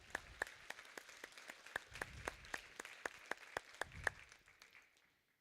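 Sparse applause for Chiefs of Ontario at a First Nations community wellness conference: a few individual hand claps, crisp and separate, rising and falling in small clusters, then fading out. Faint murmuring sits underneath.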